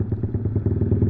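Motorcycle engine fitted with a Norifumi aftermarket exhaust, idling or revving close by in a steady, throbbing low rumble with rhythmic pulses throughout the short burst.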